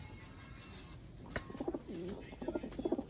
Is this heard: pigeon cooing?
yes